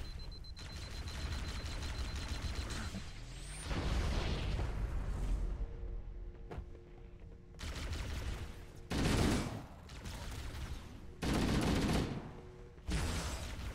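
Explosive blasts and gunfire in the Halo video game, with an incendiary grenade going off amid repeated booming bursts and steady shooting, loud and close throughout the chaotic co-op firefight.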